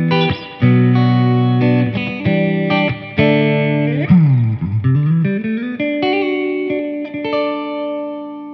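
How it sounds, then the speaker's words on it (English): Electric guitar played through a Peavey mini amp head with digital spring reverb turned up, a surf-style run of picked notes and chords ringing out with a wet, lingering tail and a warbling bend midway, close and clear with no voices. "Now we're going to turn the reverb up a little bit so you can get a color of the actual reverb itself."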